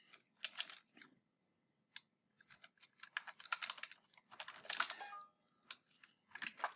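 Bursts of rapid computer keyboard typing, clattering in quick clusters separated by short pauses, close and fairly quiet, while code is entered for an Excel VBA macro.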